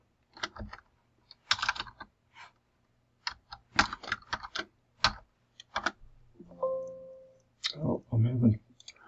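Keys on a computer keyboard are tapped in uneven bursts of close, crisp clicks with pauses between, and a short voiced hum and some speech come in near the end.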